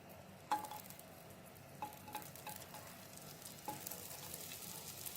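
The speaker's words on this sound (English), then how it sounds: "And then stir the onions for a while." Sliced onion rings frying in reused fish oil in a pan, a steady faint sizzle broken by a few sharp scrapes of a spatula stirring them, with no voices.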